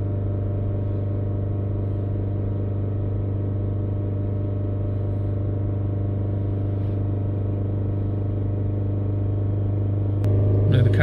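A Citroën C4 Cactus with an overloaded diesel particulate filter runs with its engine held steady at 3000 RPM, producing a constant, droning hum that swells slightly at the end.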